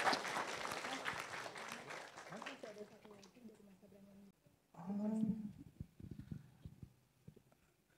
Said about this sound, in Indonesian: kita beri tepuk tangan teman-teman semuanya.